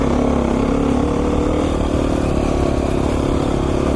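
A Beta 500 RR-S dirt bike engine drones steadily while riding on mountain double track, a loud, close, continuous roar with constant wind noise and no talk.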